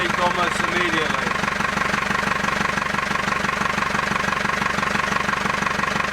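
A boat engine idles with a steady, rhythmic low throb and a constant mechanical drone, close by and unbroken throughout.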